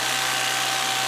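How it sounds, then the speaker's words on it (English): A tea harvesting machine cuts green tea leaves in a field like a lawnmower and sucks them into a bag. It gives a steady, loud mechanical whine and whoosh, with a constant motor hum under it and no pauses. "By and large, they use machines that come and cut like a lawnmower and will suck it into a bag."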